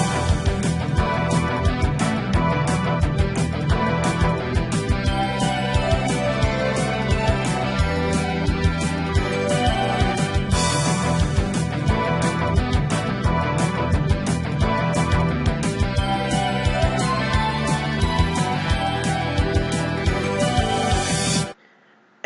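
A dense JRPG battle theme made in FL Studio plays loud and continuous, with layered brass and trumpets over driving percussion, ending abruptly.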